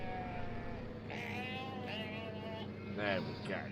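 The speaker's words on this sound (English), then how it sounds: "Making a lot of noise of the sheep." Sheep in the Farming Simulator game bleat several times in wavering calls over a steady low engine hum from farm machinery, fairly close and moderately loud.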